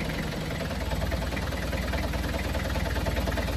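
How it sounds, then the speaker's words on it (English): A car engine idling during a hill-start driving lesson, a loud, continuous low rumble with steady mechanical knocking that holds evenly throughout, close by and without talk. "Start the car."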